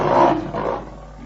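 A short, furious lion roar used as a storybook sound effect, a single loud, close growling burst that swells and then fades within about a second.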